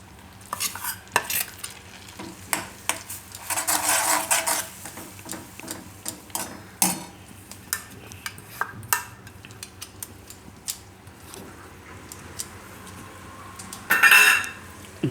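Garlic stirred into melted homemade butter in a pan: repeated scraping and clinking of a utensil against the pan in irregular bursts over a faint sizzle, with no talking.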